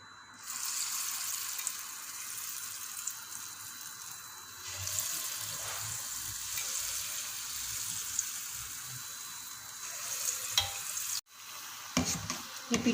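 Spoonfuls of lentil batter drop into hot oil as laddu peethi, giving a steady bubbling fry hiss with soft clinks, a brief cut, then louder crackling bursts.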